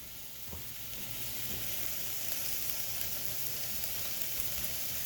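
Food fries in olive oil in a pan, mushrooms cooking for baked spaghetti, giving a soft, even sizzle that stays steady and fairly quiet throughout, with nobody speaking.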